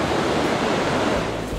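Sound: ocean waves crashing on coast

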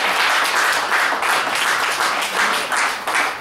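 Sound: audience applause

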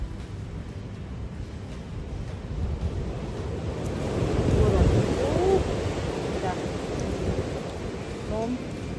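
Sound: strong wind

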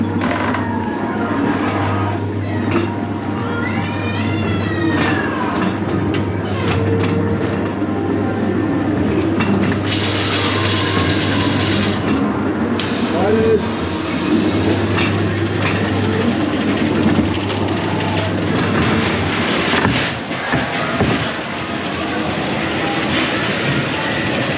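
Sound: Blackpool Pleasure Beach ghost train ride on rails

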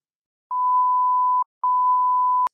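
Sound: censor beep tone

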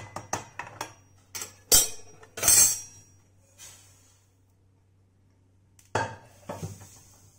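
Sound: toasted sesame seeds being transferred onto a plate, dishes clinking

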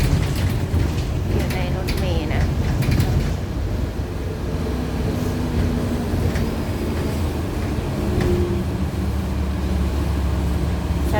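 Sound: city bus interior while riding

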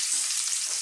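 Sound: fresh curry leaves sizzling in hot oil

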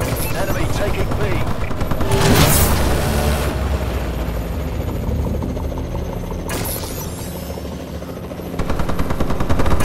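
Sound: warbird aircraft overhead in video game Call of Duty: Advanced Warfare

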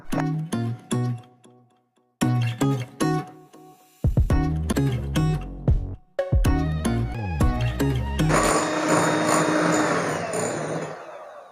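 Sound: electric beater beating egg and powdered sugar mixture

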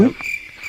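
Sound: frogs croaking with crickets at night

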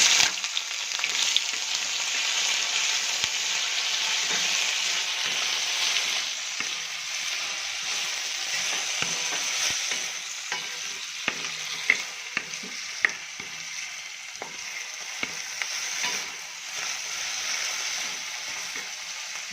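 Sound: onions and cashews frying in a pan

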